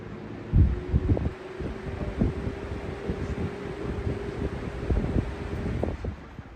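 A Lasko B20200 Galaxy box fan with a swapped blade runs with a thin steady whine over breathy airflow, broken by soft low thumps of buffeting.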